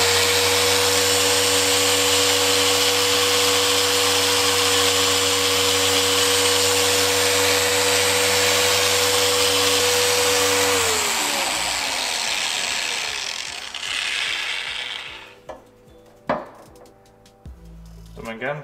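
A polishing machine runs at speed 5 on a car headlight lens, a loud steady motor whir with humming tones that spins down after about eleven seconds, followed by quieter handling noises and a few sharp knocks.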